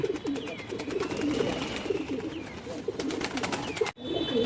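Several pigeons coo in soft, overlapping rounds at close range, with a steady murmur of flock sounds and no talking.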